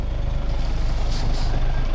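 A bus pulls up at a stop in Nha Trang, Vietnam, its engine rumbling loud and close with a hissing air brake release and a faint high beep over the steady drone.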